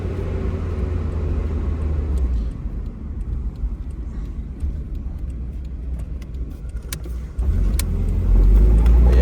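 Restored Nissan KA24 engine car running and driving, a steady smooth engine drone with road rumble that swells louder near the end as it accelerates, heard up close with no talk over it.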